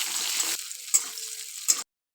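Bay leaf, cumin and chopped onion hit hot oil in a pan with a strong sizzle that fades into a quieter crackle, with two short bursts of spitting as more goes in, no voices.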